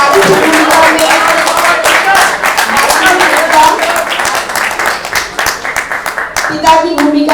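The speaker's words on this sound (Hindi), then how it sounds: "दादाजी की भूमिका निभा रहे थे सुरेश श्रीवास्तव जी, जोरदार तालियां।" Loud, sustained applause and clapping from a theatre audience after a stage play, filling the whole stretch, with a few audience voices mixed in.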